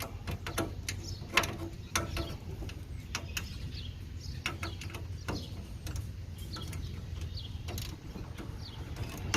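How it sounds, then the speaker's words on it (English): A 10mm socket wrench turns a bolt while fenders are fitted to a Zuca cart, giving faint intermittent mechanical clicks and ratcheting over a low steady background hum, with no talking. "I'm going to use a 10mm socket, put on the inside of there where that screw is at, the bolt."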